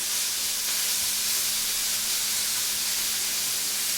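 Beef chunks for carne guisada sear in a hot cast iron pan, giving a steady broadband sizzling hiss that holds evenly throughout with no pauses and no voices.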